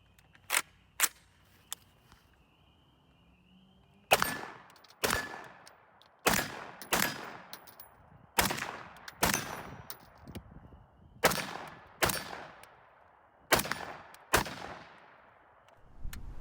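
An AUG A3 rifle fires in the video game PUBG: a few isolated single shots, then a steady series of loud, sharp reports, each ringing briefly before the next.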